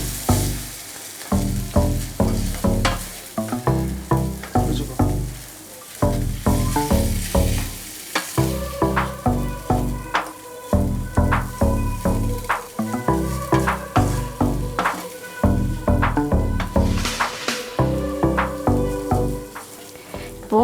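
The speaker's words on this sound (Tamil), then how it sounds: "இதை நல்லா இப்போது எல்லாத்தோட மிக்ஸ் பண்ணிக்கோங்க வெஜிடபிள்ஸோட." Boiled Maggi noodles and vegetables are stirred in a hot pan with a steady sizzle, while a utensil scrapes and taps in a regular rhythm throughout, close and clear.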